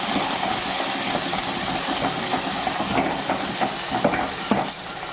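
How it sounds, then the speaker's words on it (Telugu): Cumin, curry leaves and coriander fry in a pan for amaranth dal, making a continuous close sizzling hiss with small crackles and a few stirring clicks, with no talking. "కొంచెం కరివేపాకు, కొంచెం కొత్తిమీర మంచిగా ఫ్రై చేసుకోవాలి."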